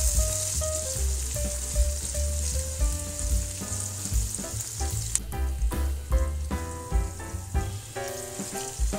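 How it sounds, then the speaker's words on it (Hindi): Onions sizzle steadily in hot oil in a pan for a potato and radish-pod curry, a continuous close frying hiss with no voices, over a layer of background music. "पहले हम ऑयल को गर्म करते हैं फिर हम प्याज शामिल करें"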